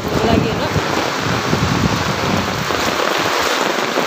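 Heavy rain mixed with hail pounding down in a hillside village, a dense, loud, continuous roar of drops hitting surfaces close by, easing slightly toward the end, with no audible talk.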